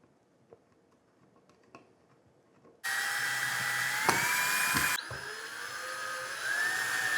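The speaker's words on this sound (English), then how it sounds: "We'll go ahead and put the screws into place." A power screwdriver drives screws into a ceiling light fixture bracket with a loud, steady, high whine for about two seconds. It drops in pitch, pauses, then whirs on with a rising tone.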